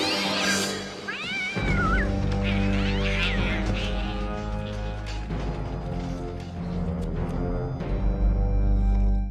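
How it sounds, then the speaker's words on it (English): Cat meowing and yowling in a 1992 Batman Returns film scene, rising wails over a steady bed of orchestral score, loud and close, with a few crashing hits toward the end. "a baby in a cage who grabs a cat and murders it"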